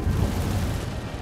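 A deep, rumbling burst of the Incendio fire spell cast in Hogwarts Legacy, a dense low whoosh that booms right at the start, holds steady and loud, then eases slightly, with no voices.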